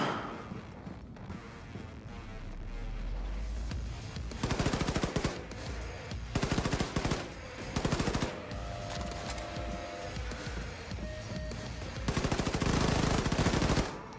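Dual-wielded machine pistols fire in Wolfenstein 2: The New Colossus, sending out rapid bursts of automatic gunfire separated by short pauses, over game music and ambient combat noise. The shots are loud and close, with no talking.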